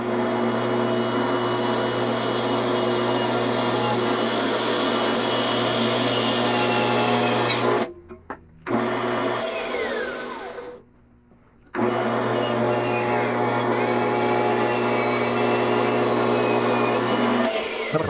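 A bandsaw whines steadily while cutting a rubber-coated wooden roller in half, the loud drone briefly dropping out twice midway before resuming its constant hum.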